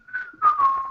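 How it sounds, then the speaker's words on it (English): A person whistling a short, clear, close tone that holds steady, breaks briefly, then slides slightly downward, loud and alone. "Don't whistle, it's obnoxious."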